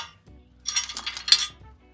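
Several sharp metallic clinks as a hammer strikes a wrench to tighten wheel bearing bolts on a 2nd-generation Toyota Tacoma, a quick cluster of close, ringing hits.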